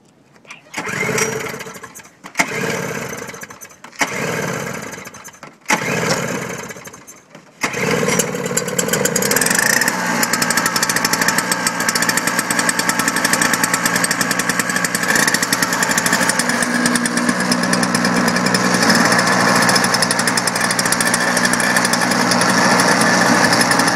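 A Toro snowblower engine pulled by its starter in four short bursts, each dying away, then catching and running steadily at a loud, even roar that holds to the end.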